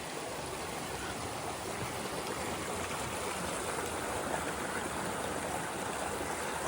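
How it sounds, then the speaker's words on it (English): A river flowing along the Appalachian Trail on Franconia Ridge, with small falls nearby, gives a steady, broad rush of water, close and even throughout, with no voices. "It's a beautiful river."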